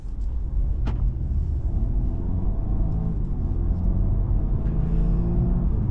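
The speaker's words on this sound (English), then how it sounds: "So I'm setting off, and the first thing I think of is silence." An Audi A5 2.0 TFSI Quattro with an S-tronic gearbox pulls away, giving only a subdued, even low rumble of engine and road noise, with no voices over it.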